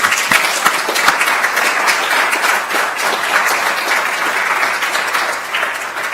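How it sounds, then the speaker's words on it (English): Applause from a roundtable discussion audience thanking an organizer, dense steady clapping at close range with a few sharper individual claps near the start, sustained at an even level. "a special bit of applause for Amina"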